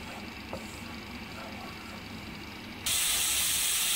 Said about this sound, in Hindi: लहसुन अदरक का पेस्ट डाल के हल्का सा इसको सौते करेंगे।